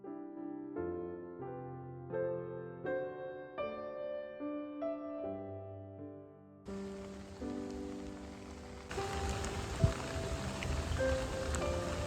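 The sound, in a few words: rain on tent while camping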